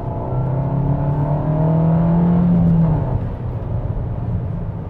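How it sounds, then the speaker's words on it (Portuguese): Renault Duster 1.6 manual pulling hard in second gear, the engine note rising steadily for about three seconds as it revs up, then easing off into a lower, rougher hum. "Vou dar uma aceleradinha aqui para vocês de segunda marcha para vocês perceberem o desempenho"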